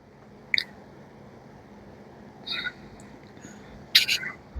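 Chickpea and potato kurma gravy simmers in a pan, with a few isolated thick bubbles plopping and popping over a quiet background, near and soft, with no one speaking.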